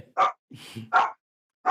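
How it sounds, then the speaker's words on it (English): A dog indoors gives three sharp, loud barks close by, with a lower growling whine between the first and second bark and no talk over them. "That's my dog barking."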